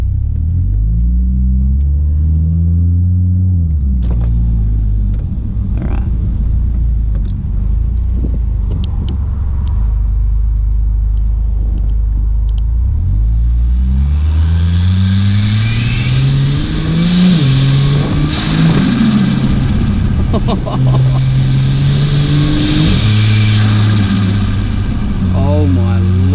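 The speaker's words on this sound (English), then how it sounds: "So this exhaust sounds really good as well under load." A car fitted with a turbo-side intake revs hard under load, its exhaust droning and climbing in deep, loud sweeps, with a rushing intake whoosh rising over the engine in the second half.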